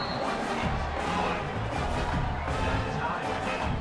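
Crowd noise rumbling steadily through a football game, likely a video game, with a broad continuous roar and no distinct peaks of cheering.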